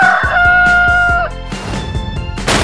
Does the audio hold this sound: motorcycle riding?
no